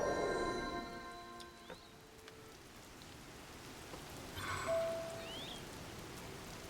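Rain falls softly and steadily in Zelda: Tears of the Kingdom, a faint, even patter with a few brief tonal game sounds layered over it and no talking.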